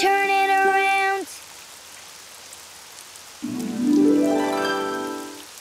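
Cartoon rain falls outside as a steady hiss beneath two sustained, rising tonal notes, the second louder and sliding upward.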